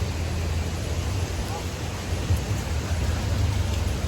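Heavy rain pours steadily on a trip to a waterfall, a dense, even wash of noise with a low rumble underneath that holds loud and unbroken throughout.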